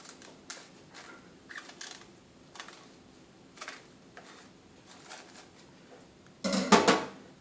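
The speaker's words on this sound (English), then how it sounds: "make a cut through the skin." A knife slices through the skin of a pomegranate with faint, sparse ticks and scrapes, then a louder, brief burst of crisp cutting and knocking near the end. No voices.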